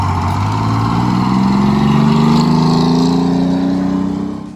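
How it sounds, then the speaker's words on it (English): A Detroit Diesel 6-71 two-stroke engine in a GM PD-4103 bus hums loudly and steadily, its low tone slowly rising as it pulls, heard close and without talk. "the driver listening to the hum of that Detroit diesel 671 out back"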